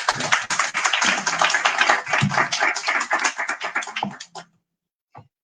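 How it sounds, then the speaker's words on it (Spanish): An audience applauds at a book presentation as the director of Mexico's Library of Congress is welcomed: a dense, steady burst of clapping that fades out after about four seconds, followed by a brief quiet tap. "Recibámosla, por favor, con un fuerte aplauso."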